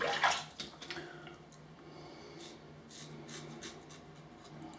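Cold water splashes and trickles during a razor shave, with a louder wet burst at the start followed by softer dripping and rinsing sounds.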